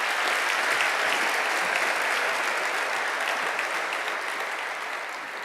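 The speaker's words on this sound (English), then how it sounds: "I think they all deserve an incredible round of applause for putting" Sustained, dense applause from a large debate audience, loud and even throughout before easing slightly toward the end.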